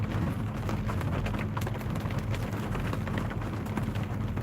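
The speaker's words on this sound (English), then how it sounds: "That sounds like a little bit of hail." Hail patters during a severe storm, a dense continuous rattle of small impacts over a low rumbling backdrop, steady and fairly close throughout.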